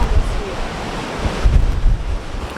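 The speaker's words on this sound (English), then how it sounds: "What a pity it's so windy." Strong wind roars and buffets the microphone on a Limestone Coast beach in South Australia, with surf washing in beneath it in loud, gusty swells.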